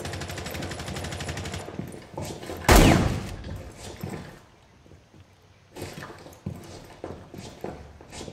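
A shotgun blast in the video game Rainbow Six Siege: one loud, sharp report rings out amid busy game sounds and rapid clattering, then the scene drops to quieter movement and faint scattered noises.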